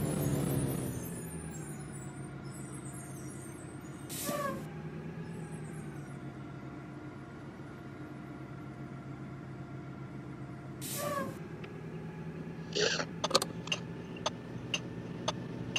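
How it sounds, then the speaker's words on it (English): Air brakes on a bus in the driving game Rigs of Rods give two sharp hissing bursts several seconds apart over a steady low engine drone, with a cluster of quick ticking clicks near the end. "Oh, these brakes sound so good."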